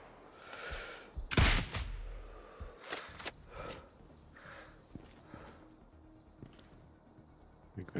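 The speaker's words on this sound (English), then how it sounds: "Where are you shooting from?" Gunfire in Sniper Ghost Warrior Contracts 2 rings out as one sharp, loud shot followed by a few fainter reports and scattered impacts over a quiet ambient background.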